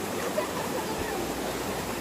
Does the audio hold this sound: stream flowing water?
yes